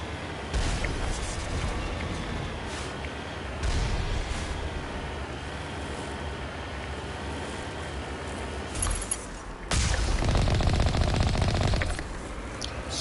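Rapid gunfire in a space video game rattles on continuously at moderate level, with a louder burst near the end.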